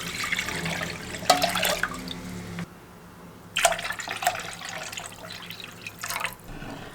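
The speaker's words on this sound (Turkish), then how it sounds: "Şimdi tenceremin yarısında su koyacağım." Water splashes into a pot holding jars in several short bursts, with a softer trickle and drips between them. Fairly quiet and close.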